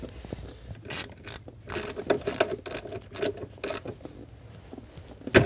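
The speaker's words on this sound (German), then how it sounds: "Und jetzt schraube ich wieder drauf." Screwing a part back into place inside a VW Golf 6 during cable routing, heard as close, quiet ratcheting clicks and small mechanical turns in irregular bursts.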